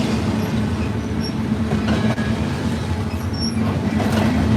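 A freight train hauling intermodal containers rolls past on the line at Lilly, Pennsylvania, with a continuous heavy rumble of wagons and occasional high wheel squeals riding on top, loud and close.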